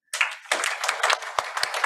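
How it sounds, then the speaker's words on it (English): Sudden burst of hand clapping from an audience at a Japan–ASEAN business executives' meeting, many hands close by with a few sharper individual claps standing out near the end. "can you clap your hands?"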